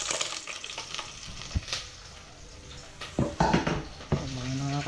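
Ginger frying in a pan with a steady soft sizzle, broken by scraping stirs and a few clinks of a utensil against the pan near the end.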